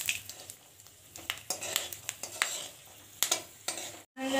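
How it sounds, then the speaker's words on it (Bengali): Peanuts fry in a little oil in a wok, a soft sizzle punctuated by sharp stirring clicks and scrapes of a spatula at a quick, uneven rhythm, ending in a short pause. "তেলে আমি অল্প দুটো বাদাম ভেজে নেব।"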